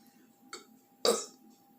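Two short throaty burps during a burping contest, a small one followed by a louder, longer belch, close and otherwise quiet.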